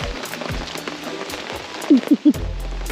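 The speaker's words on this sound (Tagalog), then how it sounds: "di na nga namin kaya yung sobrang lakas ng ulan" Heavy rain pours down in a steady, dense hiss. A few short low tones cut in near the end.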